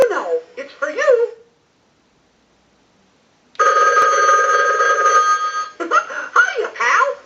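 A Telemania animated Mickey Mouse novelty telephone rings in a steady, loud electronic burst for about two seconds, with chattering voices before and after the ring.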